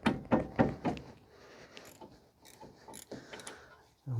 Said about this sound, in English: So I'm just gonna remove the caliper.